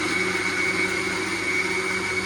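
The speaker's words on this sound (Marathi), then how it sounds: "आमच्या मिक्सरला काय झालं ते सारखं बंद होते" A kitchen mixer grinder that keeps cutting out runs with a loud, steady motor whine and a high tonal hum. It stays unbroken and close throughout, with no speech.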